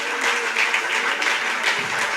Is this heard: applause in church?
yes